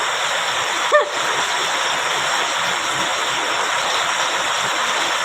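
Water flows with a steady, rushing hiss, unbroken throughout, and a brief high squeak is heard near the start.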